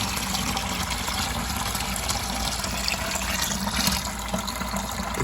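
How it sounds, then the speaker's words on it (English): Water drains out of a small washer used for cleaning gecko dishes, a continuous splashing, trickling flow heard up close at a fairly even level with slight swells, and no speech over it. "And then what we do is turn this to drain. Watch the water flow, baby."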